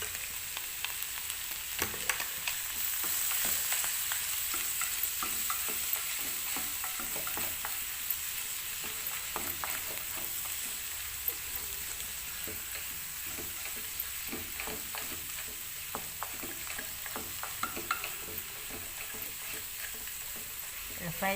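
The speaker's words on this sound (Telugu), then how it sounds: "ఫ్రై చేసుకుంటూ ఉండాలి." Bitter gourd slices fry in a pan with chilli powder, crackling and hissing continuously while repeated scraping strokes of stirring run throughout at a moderate, close level.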